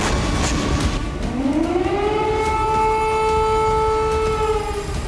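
An air raid alert siren in Kyiv wails loudly, its tone sliding upward and then holding a steady, sustained howl against a constant background roar.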